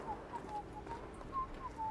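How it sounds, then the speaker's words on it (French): A character in the co-op video game A Way Out whistles a short, faint tune of several clear notes over a soft background hum. "Non, c'est le personnage qui siffle."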